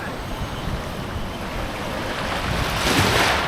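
Ocean surf at Dibut Beach, Aurora, Philippines, washes in continuously, building into a louder rushing wave near the end, with wind buffeting the microphone.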